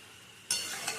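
After a quiet moment, vinegar-marinated chicken drops into a pan of hot spice masala and a loud, bright sizzle bursts up at once and keeps hissing close by.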